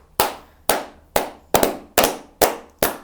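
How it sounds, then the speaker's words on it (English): Hands clapping seven times in a steady, slightly uneven rhythm, each clap sharp, loud and close, with short gaps of quiet between. "I've got to start clapping every time now, fam."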